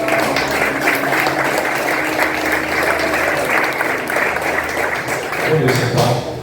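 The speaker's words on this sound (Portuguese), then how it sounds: "Pode aplaudir a palavra." A church congregation breaks into sustained applause, many hands clapping in a dense, loud roar that stays steady for several seconds, with some voices and cheering mixed in underneath.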